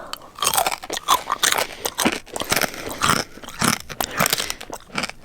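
Crisp, close-up crunching and biting of pork scratchings eaten in bed, a steady run of loud chews and crackles with short pauses between bites and no talking.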